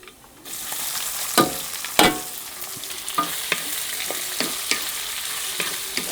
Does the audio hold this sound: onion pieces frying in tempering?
yes